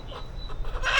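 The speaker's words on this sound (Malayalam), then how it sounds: "ഈ നാടൻ കോഴികളുണ്ട്" Country chickens kept in a meat shop cluck in short, scattered calls nearby, building to a louder, sharper squawk at the end, with no talk heard.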